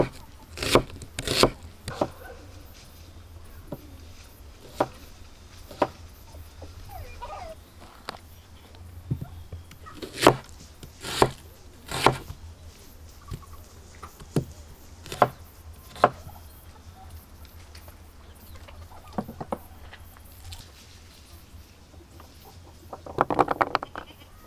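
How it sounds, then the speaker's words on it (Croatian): A knife chops onions on a board while a roasting-spit dish with carrot, garlic and rosemary is being prepared; about a dozen sharp, separate knocks fall in an irregular rhythm, close and fairly loud over a quiet background. "izrezat ću 3-4 luka."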